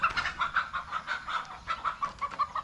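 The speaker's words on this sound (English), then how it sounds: "Oh, rooster's chasing." Rapid, repeated clucking from hens chased by a rooster in a quick uneven rhythm, fairly close and continuous, with no talking.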